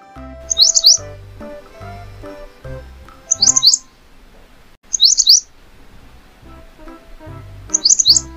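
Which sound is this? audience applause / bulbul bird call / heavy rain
bulbul bird call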